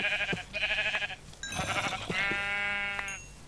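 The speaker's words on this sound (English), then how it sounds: "Come here, sheep." Sheep bleat in a Minecraft-style game running the Voltz mod, giving a few loud, wavering, nasal cries close by with short gaps between them and soft thumps underneath.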